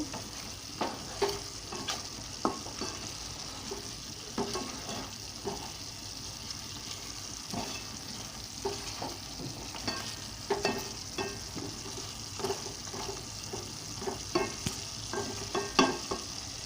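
Mutton curry with tender tamarind leaves frying in a pan, stirred in a steady home-kitchen rhythm: continuous soft sizzle with repeated scraping clicks of the spoon against the pan, close and moderately quiet, no talking.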